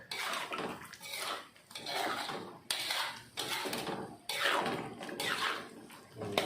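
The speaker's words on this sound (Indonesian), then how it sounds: "Kita aduk dulu." Vegetarian rendang made without coconut milk is stirred in a pot with water, giving repeated scraping and clinking strokes of a utensil against the pot, fairly close and moderately quiet, in uneven bursts.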